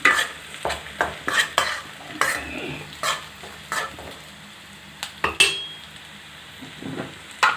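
Squid and onions fry in coconut oil in a pan, with a spoon scraping and clattering against the metal in quick repeated strokes over a steady close sizzle.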